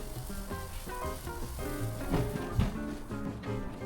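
Chicken sizzles on a hot grill, a steady close crackle and hiss throughout with a few sharper pops, no talking.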